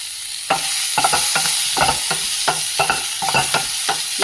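Onion frying in oil with turmeric, a steady close sizzle broken by repeated scraping stirs roughly every half second.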